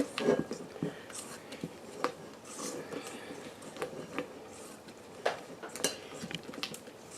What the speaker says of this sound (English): Take my spatula and we're just going to mix this until I get it mixed in thoroughly.